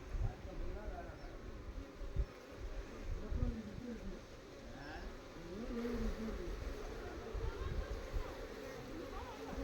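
Honeybees swarm around an opened wooden hive box during hive cleaning, a dense continuous buzzing close by that rises and falls, with some low handling rumble underneath.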